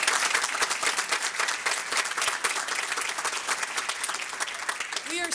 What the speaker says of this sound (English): So could we give a big round of applause to our robotics team?